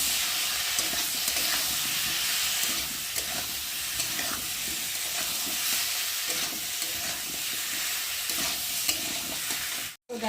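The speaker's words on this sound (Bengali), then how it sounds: "মশলা দিয়ে ভালো করে কষিয়ে নেব" Ginger, cumin and garlic paste masala fries in a pan for an egg curry, a steady hissing sizzle broken by repeated stirring scrapes, then a brief cut to near silence just before the end.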